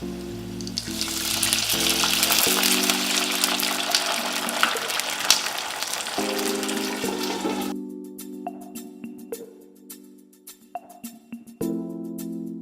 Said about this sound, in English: And then you're going to put a lid on and steam them for 7 to 8 minutes.